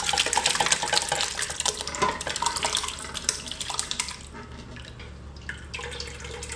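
Rhubarb juice pours from a container into a bowl through a large strainer, a close splashing gush with drips that gradually thins and quiets, no voices.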